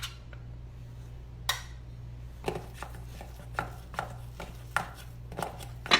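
A spoon mixing deviled egg filling in a bowl, a series of sharp irregular taps and scrapes against the dish over a low steady hum, with no talking.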